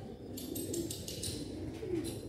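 Pigeons cooing softly in a Sialkot loft, a few low repeated coos over faint background noise, with no voices.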